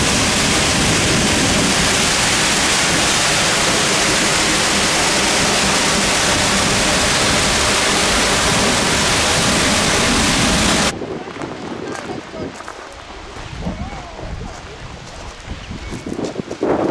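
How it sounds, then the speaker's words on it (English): Hidden waterfall beside Seljalandsfoss in Iceland, a dense roaring rush of falling water heard close from behind for about eleven seconds, then cutting to a quieter, rumbling outdoor ambience. "The hidden waterfall, which is next to the Seljalandsfoss, just around the corner from it."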